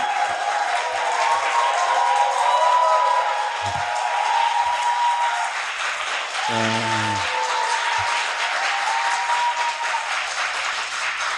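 An audience applauds and cheers at a lecture event, with sustained clapping and crowd noise and a few brief voices over it.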